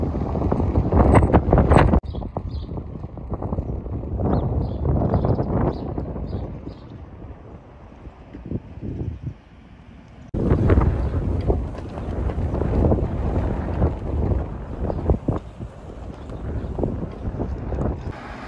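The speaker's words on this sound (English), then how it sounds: "was super windy here early in the morning at the beach" Strong early-morning gusts of wind at Ogunquit Beach, Maine, buffet the microphone with heavy rumbling, briefly easing before blasting back in, loud and constant outdoors.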